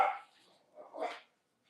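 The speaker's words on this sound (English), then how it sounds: "the dog's chasing squirrels" A dog chasing squirrels gives two short, sharp barks outdoors at a moderate distance, separated by a brief pause, with quiet surroundings and no talking.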